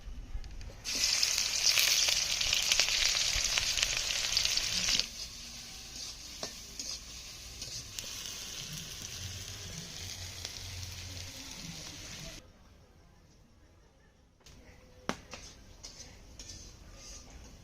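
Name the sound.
chili and onion frying in hot oil in a pan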